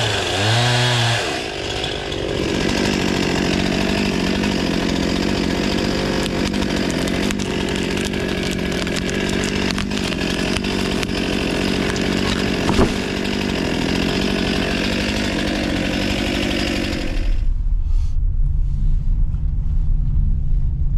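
A chainsaw cuts a face cut in a small tree limb during tree rigging over a home. It drones loud and steady for most of the stretch, then cuts off abruptly near the end, leaving a low rumble.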